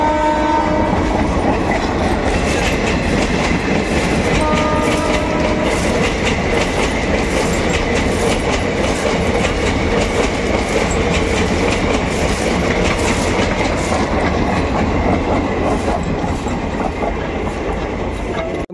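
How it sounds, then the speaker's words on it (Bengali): A Lalgola–Sealdah passenger train hauled by a WAP4 electric locomotive rolls into Murshidabad railway station with a loud, continuous rumble and rhythmic wheel clatter close by, and a horn sounds partway through. "আর দেখতে পাচ্ছেন Lalgola Sealdah passenger Murshidabad rail station ঢুকছে"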